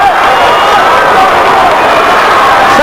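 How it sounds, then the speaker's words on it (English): A high school basketball crowd at a 1997 Battle by the Bay game between AC and Pleasantville erupts after a dunk, with loud, dense cheering and whoops that hold steady throughout. "That brought the crowd to life."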